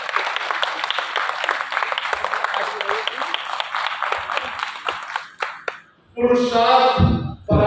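Applause for a standing ovation at a distillers association summit in a hotel, several seconds of lively clapping that tapers off, followed by a burst of music or chiming tones at the end.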